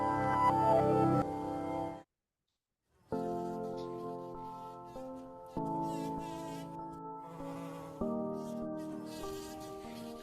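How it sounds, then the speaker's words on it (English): A bumblebee buzzes while visiting flowers, a close, steady tonal drone in several bursts, breaking off into near silence briefly before resuming with shifting pitch. "We pay close attention to the pitch or the sound that the bee makes when she's visiting"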